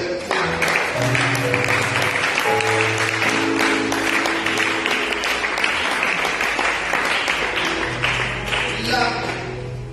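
Sustained applause from a church congregation acclaiming the Lord during a worship service, dense clapping filling the full stretch with organ or keyboard tones sounding underneath.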